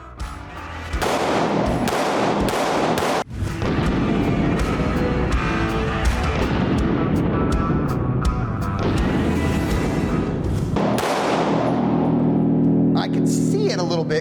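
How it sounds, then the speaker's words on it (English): A SIG SAUER P320 Spectre Comp ported pistol fires a rapid string of sharp, loud gunshots at close range, with sporadic talk mixed in among the shots. "let's test how the ports direct the muzzle blast forward"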